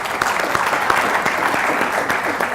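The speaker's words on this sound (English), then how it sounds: "How about we give him a big round of applause for this?" An audience gives a big round of applause, a dense, continuous burst of many hands clapping at steady loudness from start to finish.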